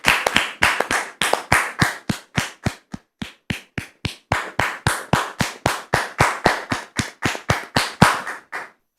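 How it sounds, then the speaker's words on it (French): Clapping from an assembly welcoming a guest, sharp, evenly spaced, loud claps in a steady rhythmic beat, like a crowd clapping in unison, continuing for several seconds with no voices. "nous allons recevoir maintenant Dame Rose, sous vos applaudissements, très chers frères et sœurs, afin d'entendre sa version également."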